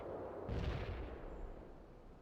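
A heavy tank cannon shot booms once in the World in Conflict video game, a deep low blast with a rumbling tail that fades out over a quiet background.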